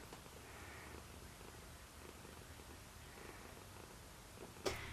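A pet cat named Silas purrs close by in a steady, soft, continuous rumble with no talking, broken near the end by a brief sharp sound.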